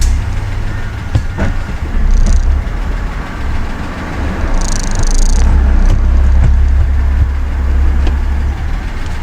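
A car engine idles steadily while the gears of a Ford BTR M74 four-speed automatic transmission are selected, a loud low rumble with occasional faint clicks and slight swells in level.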